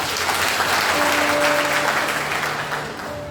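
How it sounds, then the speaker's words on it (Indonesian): A church congregation applauds during a worship service, a steady wash of clapping that stays loud and full throughout before tapering slightly at the end, with a faint sustained tone beneath. "Kita tepuk tangan bagi Tuhan kita"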